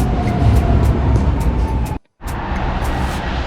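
A PKP Intercity train arrives at Będzin railway station with a loud, steady rumbling roar that cuts out briefly and then resumes, heard close by.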